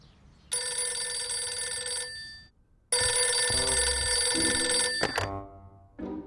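A telephone rings in a home in two bursts of bright, clanging bell tones, the second longer and cut short as it is answered, followed by a faint click.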